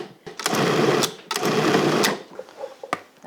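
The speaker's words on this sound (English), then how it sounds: "So take about 1/4 of the meat, sprinkle it into the food processor." A food processor pulses sirloin in two long whirring bursts, loud and close, then a few short stuttering pulses and clicks as the motor stops and starts.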